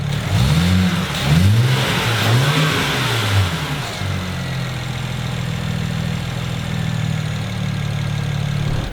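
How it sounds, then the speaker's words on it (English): A turbocharged BMW N54 engine with an open twin-cone intake revs up in rising and falling sweeps, then settles into a steady, throaty drone, loud and close with a rushing intake hiss as the turbos spool. "It really awakens those sort of turbo-y sounds as the things begin to spool."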